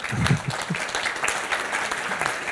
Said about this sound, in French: Sous vos applaudissements, messieurs, dames,